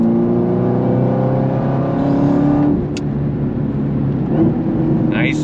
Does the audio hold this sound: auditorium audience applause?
no